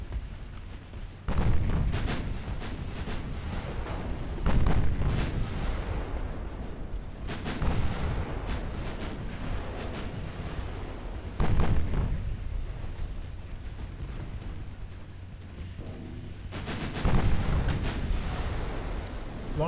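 Naval artillery salvos boom repeatedly in the warship game Ultimate Admiral Dreadnoughts, heavy blasts spaced a few seconds apart with rumbling decay between them and no talk over them.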